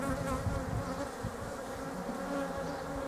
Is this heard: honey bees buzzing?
yes